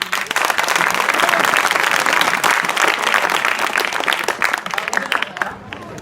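Students at an inter college assembly in Hafizpur, Azamgarh break into dense, sustained applause, a loud wash of many hands clapping together that thins and fades toward the end.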